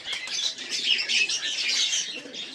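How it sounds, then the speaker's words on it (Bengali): Giribaz pigeons in a home loft coo and chirp close by, with a brief flutter of wings among the soft calls, steady and uninterrupted. "বেশ ভালো পায়রাটা, খুব সুন্দর নতুন কালেকশন এটা"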